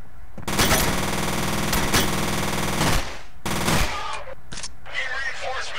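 Automatic gunfire from a weapon in the video game F.E.A.R., loud sustained bursts with brief gaps, then a final short burst over faint background game sounds.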